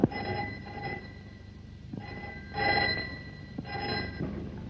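A telephone rings in repeated bursts of bright, buzzing bell tones with short gaps between them, loud and close, in a classic Tamil film scene.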